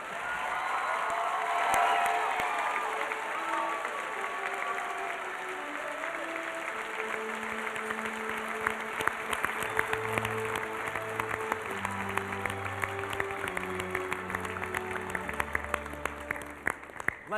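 A college awards-show audience applauds at length, with cheers and whoops mixed into dense clapping, while music plays underneath and rises as the clapping carries on with some sharper nearby claps.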